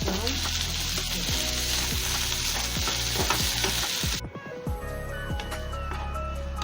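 Spiced potato stuffing frying in a pan over a low flame, a steady dense sizzle with repeated scraping stir strokes, the sizzle dropping off sharply near the end while scraping continues.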